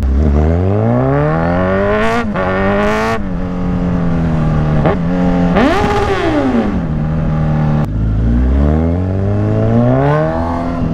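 Kawasaki Z1000 motorcycle with a loud aftermarket muffler on a street in Angeles City, revving repeatedly with sharp rising and falling engine sweeps, close and loud, with no talk.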